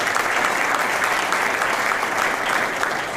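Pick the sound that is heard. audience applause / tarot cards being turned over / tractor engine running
audience applause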